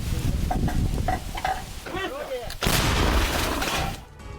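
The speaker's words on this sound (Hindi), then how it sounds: "एंटी टैंक गन से यूक्रेनी ठिकानों पर हमला किया गया है" Anti-tank gun fire striking Ukrainian positions in war news footage, heard as harsh bursts and crackling blasts mixed with rumbling noise, loud and chaotic, with a sharp impact near the middle and the noise dropping away at the end.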